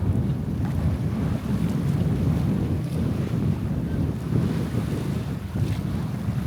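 Strong wind roars steadily over a sailing boat in about 19 knots of breeze, with waves washing and surging along the hull, a close, loud and continuous rumble with no voices.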